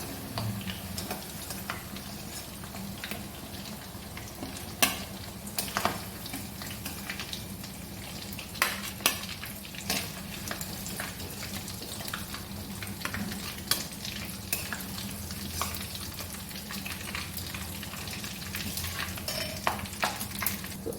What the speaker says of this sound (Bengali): তেল আর বাটারে আলুটা ভেজে নিলাম।